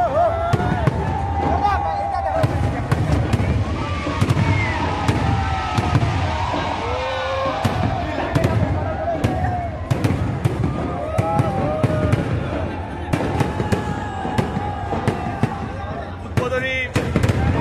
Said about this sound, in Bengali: উদ্বোধনী অনুষ্ঠানে বোম ফাটছে।